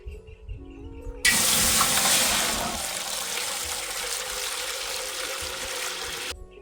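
Water pours into a pot for boiling pigeon peas, a sudden bright splashing rush that starts abruptly, stays steady for about five seconds and then cuts off, close by and alone.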